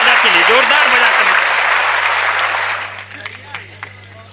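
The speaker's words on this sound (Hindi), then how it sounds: "ताली ढंग से बजाओ दादा के लिए, जोरदार बजा कर।" Audience at a Hindi comedy poetry recital claps loudly in a dense burst with voices mixed in, then the applause fades away to a few scattered claps and a low steady hum.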